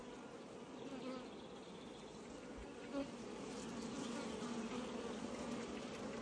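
Bees buzz at a beehive in a steady, dense drone, close and continuous, with one brief knock partway through.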